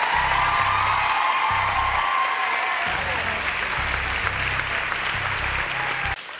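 Studio audience on a televised dance competition applauding loudly and steadily for several seconds after a contestant is sent to the stalls, a dense wash of clapping with a few cheers, fading slightly at the end.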